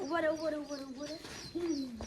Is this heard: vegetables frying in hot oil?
no